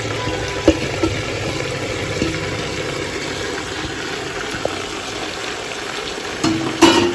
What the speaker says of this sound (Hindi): हांडी बिल्कुल बराबर एकदम गर्म हो चुका है, ये पूरा गया, ये पूरा मटन गया इसमें।